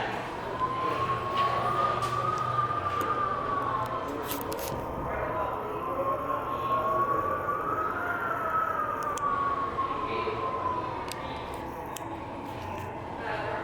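A Thyssenkrupp Synergy MRL traction elevator car arrives at a football facility, giving a steady, moderately loud whine that slowly rises and falls in pitch over a continuous machine hum, with no talking.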